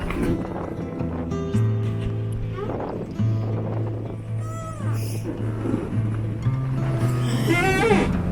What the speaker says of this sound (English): That is the sound of our boat on the dock.